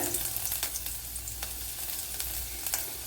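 A small piece of ginger fries in hot oil for a Malayalam-style ladies finger (okra) curry, giving a steady close sizzle with scattered crackling pops.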